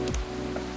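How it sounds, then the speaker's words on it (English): Steady soft rain hiss from the Coffee Talk video game, a constant low wash of falling drops with a brief thump near the start, moderately quiet and alone. "Let's see if we can't get out of here and away from the rain noise a little bit."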